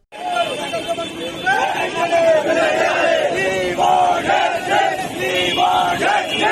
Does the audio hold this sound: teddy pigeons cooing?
no